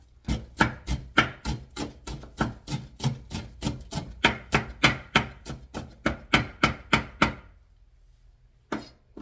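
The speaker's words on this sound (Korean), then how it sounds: "대파 흰 부분만 썰어서 다질 겁니다." A knife chops green onion steadily and rapidly on a cutting board, about two strokes per second, close and crisp, then stops and gives one final chop.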